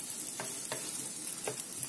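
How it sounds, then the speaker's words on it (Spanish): Onion frying gently in a pan, a faint continuous sizzle with a few soft stirring scrapes, heard close and alone. "Y echaremos la cebolla. Así que todo esto lo vamos a pochar."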